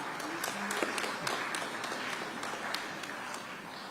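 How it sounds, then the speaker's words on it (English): Applause from an audience at a USA–Kenya business forum and deal signing ceremony in Washington, D.C., steady and moderately distant, with a few sharper claps and a brief murmur of voices. "Let's give that another round of applause."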